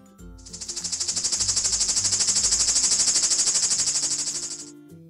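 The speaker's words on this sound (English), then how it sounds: "Cicada." A cicada buzzes loudly in a dense, rapidly pulsing drone that swells in and holds steady for about four seconds before stopping abruptly.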